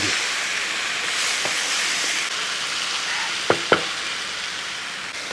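Chicken curry hisses and sizzles steadily in a pan, with a few soft scraping knocks from stirring near the end.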